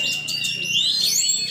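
A kacer, or oriental magpie-robin, sings at a bird contest in a steady stream of bright whistled phrases and sweeping trills, loud and continuous over a crowd murmuring in the background.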